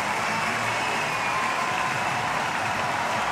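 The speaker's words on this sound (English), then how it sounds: "I think people are banging on the stands. Yeah, they're drumming their feet." Spectators drum their feet on the stands at a sport climbing final of the 2022 European Championships in Munich, a dense, continuous crowd rumble that holds steady and loud throughout.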